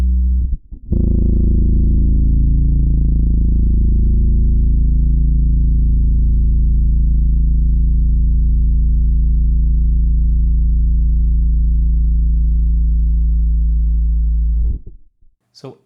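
A single electric guitar note played through a Quad Cortex capture of a vintage Boss OC-2 octave pedal rings out loud and deep, holding steady for about fourteen seconds before cutting off abruptly.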